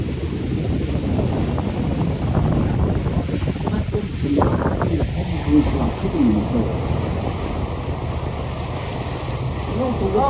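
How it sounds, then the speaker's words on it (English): Steady wind roars across the microphone aboard a sightseeing boat cruise near a glacier and forested shoreline, with water and engine rumble beneath, loud and continuous throughout. "Oh, I love this wind."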